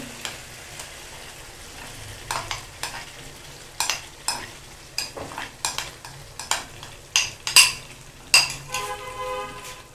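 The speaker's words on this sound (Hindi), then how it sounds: "और इसको अच्छे से मिक्स कर लेंगे।" Cream being stirred into a makhni chicken karahi: repeated spoon scrapes and clinks against the pan over a soft sizzle, close and steady with irregular sharp strokes.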